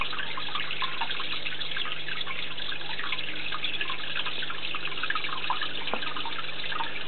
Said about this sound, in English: Oh, she's got a waterfall.